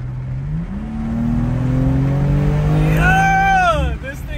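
A BMW M2 engine in sport mode revs up loudly and climbs steadily in pitch, then sweeps quickly down and up again before easing off, close and powerful throughout.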